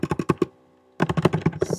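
Quick bursts of keystrokes on a computer keyboard, a run of rapid clicks, a brief pause, then another fast flurry of typing, close and clear with no voices.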